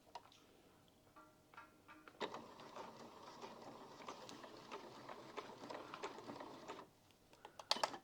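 A sewing machine stitches a shirt collar piece, a steady rapid mechanical run lasting several seconds after a few light clicks and handling noises, then stopping with some brief taps at the end.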